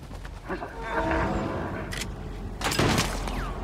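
Bursts of gunfire in the video game Little Nightmares II crackle between frantic speech, with a sharp volley near the end amid steady background noise.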